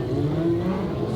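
A car passes by, heard playing from a recorded clip: a short, moderately loud engine whir with a steady tone, lasting only about a second.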